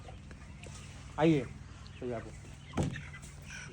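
Chickens on a poultry farm cluck in a few short, distinct calls spaced about a second apart, with a low hum behind them and a voice talking briefly.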